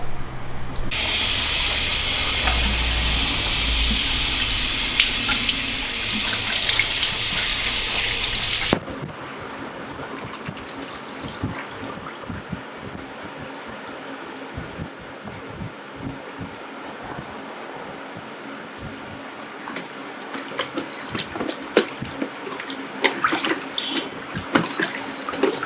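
Dyed flannel is rinsed under a running tap, with a loud, steady hiss of water for several seconds; after it stops, quieter wet handling, drips and clattering follow.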